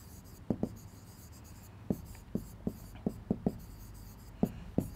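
Pen or pencil writing out a maths solution on paper, heard close up as a series of short scratchy strokes and taps spread irregularly across the stretch, with no talking.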